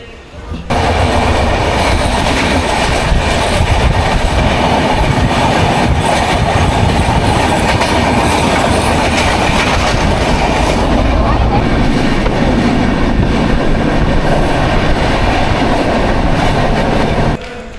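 The Darjeeling Mail, running from Kolkata toward New Jalpaiguri, pulls into Bardhaman station with a steady, loud rumble of wheels and carriages that rolls on without a break, holding an even roar until it drops away at the very end.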